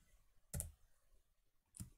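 A few quiet keyboard clicks, spaced apart, in an otherwise hushed room.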